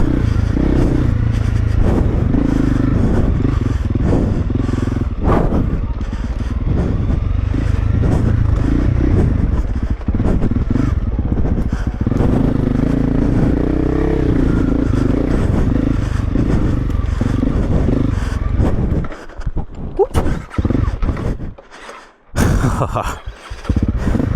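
Honda CRF300L motorcycle on a trail ride, the engine roaring loud and close throughout with revving, gear changes and clattering over rough ground, briefly dropping away near the end before picking up again.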